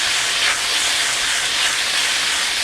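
Asparagus cooking in a pot gives off a steady, even sizzle, a loud continuous hiss that holds without a break and with no voices over it.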